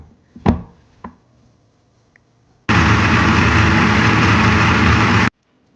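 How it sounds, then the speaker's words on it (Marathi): A mixer grinder whirs loudly and steadily for about two and a half seconds as it grinds ginger, garlic, coriander and a little water into a fine masala, then cuts off abruptly, after a few light knocks beforehand. "आता हा मसाला आपल्याला एकदम बारीक फिरवून घ्यायचा आहे मिक्सरवर"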